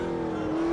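Race car engine in Assetto Corsa Competizione holding a steady, loud drone, its pitch rising slightly near the end of the brief burst, with no other sound over it.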